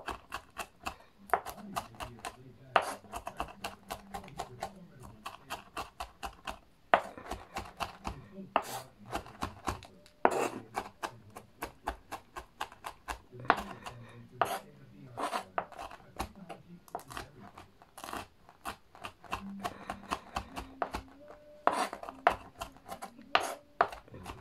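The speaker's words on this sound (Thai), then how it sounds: "หั่นต้นหอมน้ำมูกน้ำตาไหลเลยค่ะ" Knife chopping spring onions on a cutting board in a home kitchen, a long run of quick, crisp taps in bursts with short pauses, close and fairly quiet.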